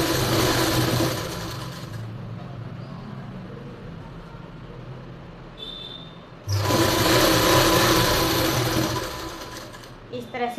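A sewing machine stitches a fabric strip onto a lined blouse. It runs in loud, steady bursts of motor whir, stopping for about four seconds of quieter gaps with faint handling noise in between.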